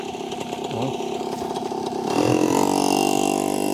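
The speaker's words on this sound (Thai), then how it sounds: "มีรถมอไซค์มาครับนกผมตกใจหมดเลย" A motorcycle engine passes nearby in a rural setting with a small caged songbird, a buzzing drone that grows louder and rises in pitch as it approaches, with no speech.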